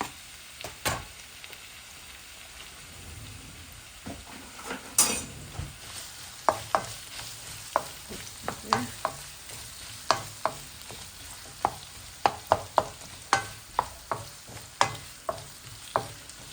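Onions sizzle softly in a pan under a steady low hiss, punctuated by frequent sharp clicks and scrapes of stirring utensils.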